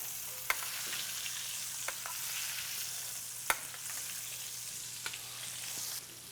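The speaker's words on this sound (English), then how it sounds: "Start basting right over the top." Steak sizzling steadily in a pan while being basted with brown butter, a close, continuous fry with a few sharp spoon clinks and spatters, no voices.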